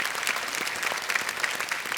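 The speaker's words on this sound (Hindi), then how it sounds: "एक बार जोरदार तालियां" A studio audience on the KBC quiz show set breaks into loud, sustained applause, a thick, continuous roar of clapping from a nearby crowd.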